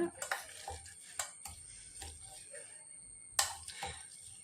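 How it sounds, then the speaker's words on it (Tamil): Boiled potatoes are mashed with a potato masher in a quiet kitchen, giving soft, irregular metallic clinks and dull squishing presses against the pot, with a faint steady high whine in the background. "எங்கள்கிட்ட மேஷர் இருக்குது அப்படின்றனால அதை வச்சு நான் மேஷ் பண்ணிக்கிறேன்"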